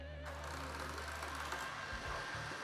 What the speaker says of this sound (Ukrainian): Зараз ми запускаємо копер